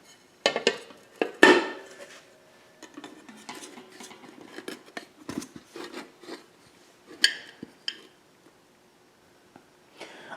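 Metal utensils scraping and tapping against a metal pan while a key lime cake is freed from it, a series of sharp clinks and scrapes, close and irregular, with quiet gaps and no voices.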